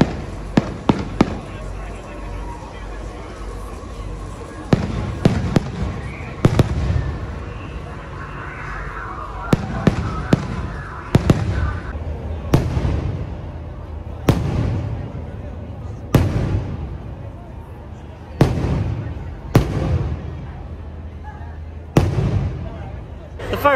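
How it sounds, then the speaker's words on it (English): Fireworks burst over Batuu at night, sharp loud booms spaced every second or two over a steady crowd murmur, with a few quick crackling pops mixed in. "Fireworks are about to start. So watch fireworks over Batuu."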